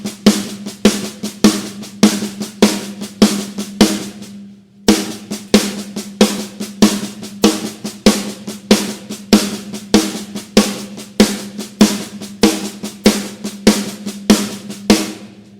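Sharp snare strokes repeat in a quick, uneven pattern of doubled hits against a steady triplet pulse, loud and close, with a brief pause near the middle.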